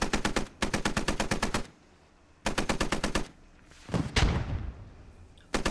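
Machine-gun fire in the video game Squad: loud, close bursts of rapid rounds broken by short pauses, then a heavy thud with a rumbling decay and a final burst starting at the end.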